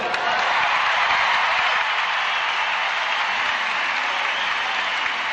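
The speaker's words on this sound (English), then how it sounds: "Lots of applause for Philippe Rizzo." Steady, loud arena applause from a large crowd at the Commonwealth Games gymnastics apparatus finals, greeting a silver medalist at the medal ceremony, sustained and even throughout without letting up.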